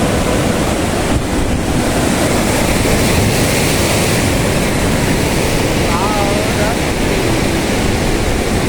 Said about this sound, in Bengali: এখন সমুদ্রর গর্জন শোনো, গর্জন শোনো কেমন লাগছে।